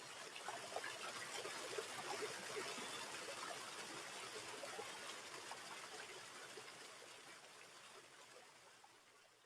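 River water flowing continuously with a soft rushing and trickling texture, steady and fairly quiet, fading slightly toward the end.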